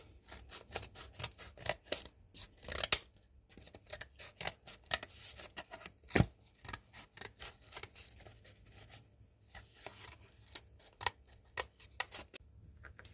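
Scissors snip through paper over and over in quick, uneven bursts, close up, with brief pauses between runs of cuts, while cutting tabletop woodland scatter terrain.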